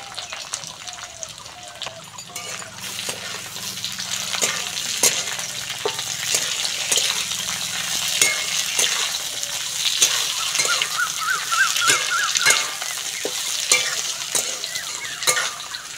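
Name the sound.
capsicum, carrot and green chillies frying in a pan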